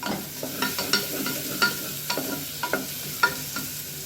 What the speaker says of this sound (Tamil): அடுத்து வந்து வெங்காயம் சேர்த்துக்கலாம். இதை இப்போ நல்லா வதக்கிக்கலாம்